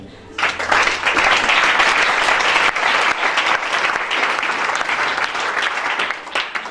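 A church congregation bursts into loud, sustained applause during a sermon, dense clapping holding steady for several seconds before easing slightly toward the end.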